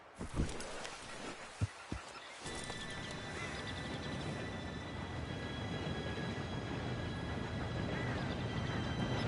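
An approaching train in the Western game Red Dead Redemption 2, a few sharp knocks at first, then a steady rising rumble and hiss with faint tonal whine, growing louder as it nears.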